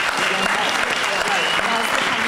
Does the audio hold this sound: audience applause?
yes